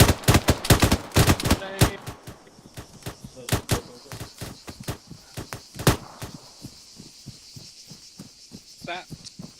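Suppressive gunfire in ArmA 3 cracks out in sharp bursts and single shots, loud and close at first, then thinning into scattered, fainter reports as the firefight continues.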